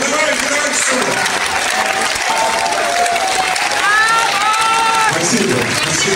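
An audience at a children's choir concert applauds steadily with scattered cheers, while whistle-like tones and some voices rise through the middle of the sustained clapping.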